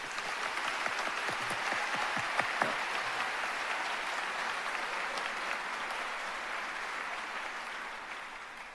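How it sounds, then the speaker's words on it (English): An auditorium audience applauds incoming dental students at a white coat ceremony in Bovard Auditorium, a broad sustained round of clapping with a few sharper claps early on, gradually thinning toward the end. "Please join me in a round of applause for these students"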